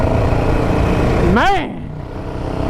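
A stock Honda CRF 250R dirt bike and a stock Yamaha Raptor quad race past, one engine note rising and falling sharply as it sweeps by, with someone talking over the steady outdoor rumble.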